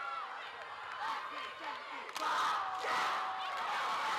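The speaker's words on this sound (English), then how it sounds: "can hear the crowd roaring" Arena crowd at a cheerleading world championship roars and cheers continuously, a dense sustained wall of voices that swells louder midway, with shouts rising above the din.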